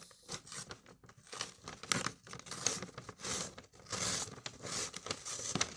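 A Kuromi surprise package torn open by hand, with loud crinkly plastic rips and crumpling bursts close up that come in uneven spurts for several seconds, without talking.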